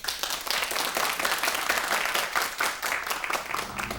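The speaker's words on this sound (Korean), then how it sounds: "박수로 환영해 주십시오" A studio audience at a Korean KBS storytelling broadcast claps to welcome the first storyteller onto the stage, dense, lively applause sustained for the full few seconds with no talking.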